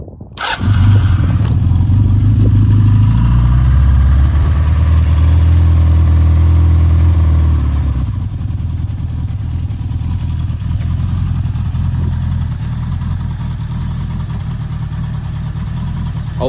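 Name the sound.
1985 Suzuki GS700E motorcycle engine cold start idling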